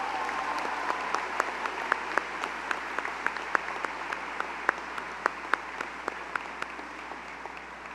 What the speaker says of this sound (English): Please join me in giving these students another round of applause.